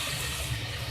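Half a cup of water poured into frying masala in a pan for kofta karahi, a short steady watery pour with a low rumbling trickle, close and moderately loud, no voices.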